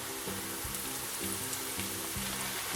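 Onions and chopped ginger frying in a pan, a steady dense sizzle with a faint low pulsing hum beneath, continuous and close, no voices.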